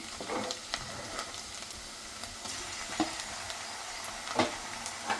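Ginger garlic paste frying with onions in a pan, a soft, steady sizzle broken by scattered scraping stirs and small pops, close up.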